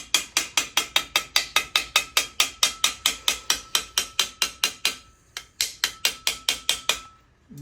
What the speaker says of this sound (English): You can hear hammering on the ball there.